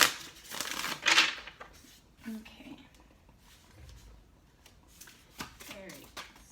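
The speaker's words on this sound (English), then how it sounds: "All right, this will be our last shuffle." Tarot cards being shuffled: a loud, crisp riffle burst at the start, then softer scattered card slaps and handling sounds, with a brief spoken word near the end.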